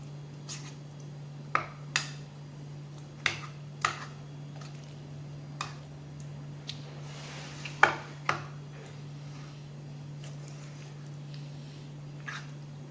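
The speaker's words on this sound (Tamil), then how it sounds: "இந்த மசாலாவில் இந்த உருளைக்கிழங்கை நல்லா பரட்டி விட்டுக்கணுங்க" A spoon stirs potatoes into masala in a pan, making a series of separate light scraping clicks and taps over a steady low hum.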